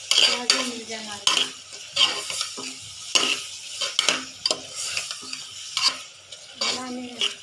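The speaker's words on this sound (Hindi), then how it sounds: "लहसुन हर चीज डाल के थोड़ी देर हिला देना है" Ginger and garlic are stirred in a hot pan for capsicum keema. A spoon scrapes and clanks against the metal in repeated bursts over a light sizzle.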